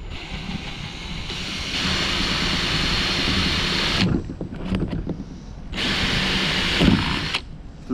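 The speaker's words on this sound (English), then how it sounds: "and we drill a hole." A power drill whines steadily while drilling a hole through a metal cat food can, cutting out briefly and starting again, loud and close, with no talking.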